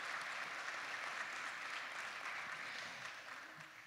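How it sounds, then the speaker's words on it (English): Audience at a Weatherford College meeting applauding, a steady dense clapping that holds throughout and softens slightly toward the end. "Let's give yourself a round of applause."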